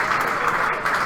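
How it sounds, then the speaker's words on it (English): Fans applaud right after the final point of a men's singles racquetball match at the Pan Am Championships, a dense, loud burst of clapping that holds steady through the short moment. "Applause from all the fans around."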